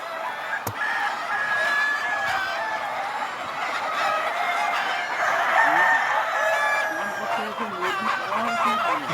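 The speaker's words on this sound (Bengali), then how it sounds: "এখানে এতটাই মুরগির আওয়াজ" A crowd of Sonali chickens fills a poultry farm with continuous clucking and squawking, with roosters crowing through the din, dense and close throughout.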